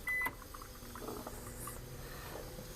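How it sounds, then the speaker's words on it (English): A microwave oven running from a 2000W pure sine wave inverter beeps once, then starts humming steadily with a low whirring drone, close by and fairly quiet. "my microwave just finished, so let me start it again."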